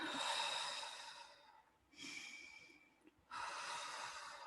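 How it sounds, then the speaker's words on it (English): Slow, deep breathing during a relaxation exercise: three long, airy breaths, close to the mic, each separated by a brief quiet pause. The breaths are soft but clear, with no talking. "And breathe in and breathing out, letting go of all the stress of the day."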